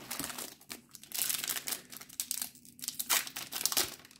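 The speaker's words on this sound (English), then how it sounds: "the wraps rip so fast" Plastic booster pack wrappers for a trading card game being crinkled and torn open, close-up crackling and ripping in uneven bursts with short pauses between them.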